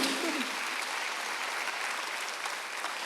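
Church congregation at a Sunday worship service applauding, a steady dense wash of many hands clapping throughout, fairly loud and continuous with no break.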